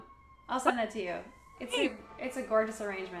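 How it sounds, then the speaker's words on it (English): Sirens wail outside in the city, a faint rising and falling tone running behind close conversational speech. "Sorry for the sirens."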